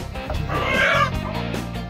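A local village rooster at a roadside spot near Kathmandu, Nepal, giving a short, close clucking call that lasts under two seconds.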